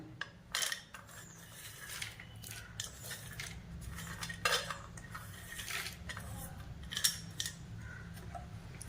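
Chopped almonds and pistachios being mixed into a no-cook tender coconut and nungu payasam: soft, scattered clinks and scrapes of a spoon against a vessel, quiet and close, with a low background hum.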